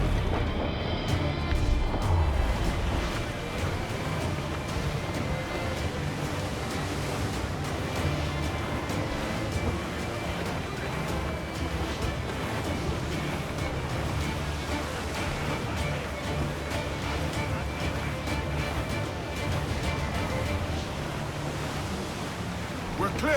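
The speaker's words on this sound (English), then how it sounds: "Let's ride this squall!" A squall at sea in Assassin's Creed IV Black Flag: steady roaring wind and crashing waves around a sailing ship, a dense continuous wash of surf and gusts with faint voices under it.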